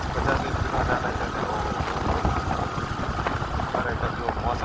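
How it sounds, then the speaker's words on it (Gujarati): A motorcycle cruises at about 50 km/h on a road at midday in the monsoon season, with a steady, close roar of wind buffeting mixed with a continuous engine drone throughout. "બાઈક મસ્ત 50ની સ્પીડમાં ચાલે છે."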